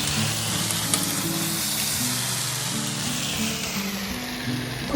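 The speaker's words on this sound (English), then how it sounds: "Add the oil into the wok over low heat. Add the meat. Spread and saute them for 3 minutes." Beef sautéing in oil in a wok, a steady close sizzle with occasional soft stirring bumps and a louder clack at the end, with no talking.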